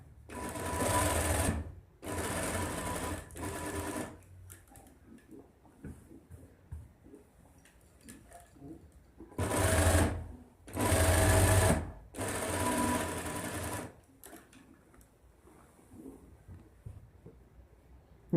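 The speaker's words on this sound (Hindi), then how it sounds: "यहाँ से आपने सिलाई शुरू करनी है और बिल्कुल एंड तक सिलाई आपने लेके जानी है।" A sewing machine stitching the side pocket of a men's kurta runs in several loud, rattling bursts of a second or two each, separated by quiet pauses with faint handling noises.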